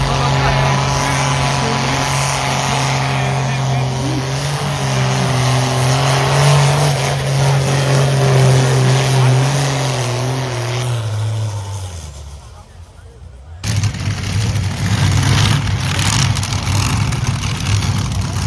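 A pulling tractor's engine roars loudly and steadily at a tractor-pulling arena, its pitch drifting. It drops away briefly near the end, then the loud engine and crowd-level noise return, with an announcer talking over it.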